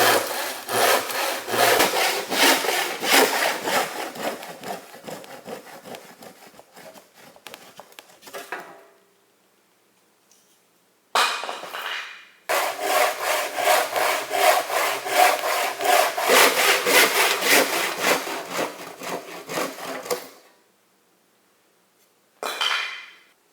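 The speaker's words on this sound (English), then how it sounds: "cut curves with just a handsaw and chisels." Handsaw cutting pallet wood boards, steady rasping back-and-forth strokes close up for several seconds, stopping briefly, resuming for a long run, then a final short burst.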